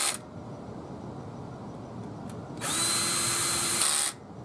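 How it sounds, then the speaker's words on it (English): A small Black and Decker power drill runs in one steady, high-pitched whine for about a second and a half, close up, during front brake rotor work on a 1985-1994 Ford F-150 4x4, after a quiet stretch. "Just a regular Black and Decker drill. Small one I use for my speaker work."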